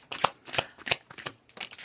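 Tarot cards being shuffled in a series of crisp riffling bursts, four or five quick shuffles in a row, close and fairly quiet with no talking.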